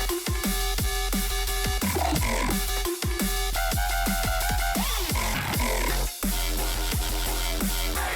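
A dubstep track played back sped up: dense, loud electronic music with heavy bass, pitched synth lines and rapid rhythmic stabs, continuous throughout with no talking.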